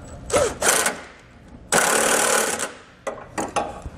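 Short bursts of tool noise from tightening bolts on a Roadmaster Direct-Connect base plate bracket on a 2017 Smart car; several uneven buzzing bursts, one long sustained run in the middle, then brief taps near the end.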